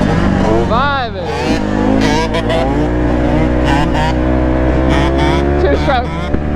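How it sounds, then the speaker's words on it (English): A two-stroke Yamaha Banshee quad bike revs loudly and close by in a lot, its buzzing engine pitch sweeping up and down steadily throughout, with people talking faintly underneath. "Two-stroke. Wow, this makes me miss my two-stroke"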